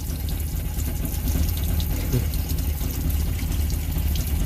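Water pouring steadily from an old engine oil pan on a Toyota, running as a continuous splashing stream close by with no talk over it.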